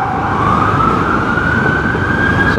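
An ambulance siren wails steadily and loud close behind in road traffic, its tone sliding slowly upward over a constant rumble of engines and road noise.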